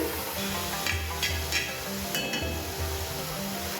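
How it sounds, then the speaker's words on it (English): Onions sautéing in a pan for a potato and tomato curry, a steady close sizzle and hiss with occasional clinks of a utensil stirring, continuous throughout with no talk. "I'm going to saute these onions till they are beautifully caramelized and golden."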